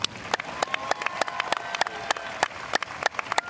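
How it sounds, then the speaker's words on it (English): Sparse applause at a morning school convocation for the band: scattered individual claps ring out against a hum with faint sustained tones, fairly quiet and irregular rather than a dense ovation. "How about a round of applause for our band this morning?"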